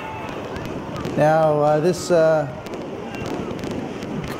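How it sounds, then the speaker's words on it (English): A fireworks sound effect cued for a green-screen chroma key demo bursts in loudly at about one second and fades within two seconds, with a voice talking just before it. "Cue the fireworks."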